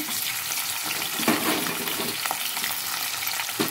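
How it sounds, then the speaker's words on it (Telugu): Fish pieces crackle and sizzle in hot oil in a pan, a loud close spattering that runs without a break, with a few sharper pops. "నూనె చిట్టుపట్టమంటుంది కదా, ఇప్పుడు చేప ముక్కలు వేసేసుకుందాం."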